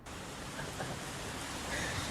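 A steady, dense hiss of rain falling outdoors, even and unbroken, at moderate distance without distinct drops.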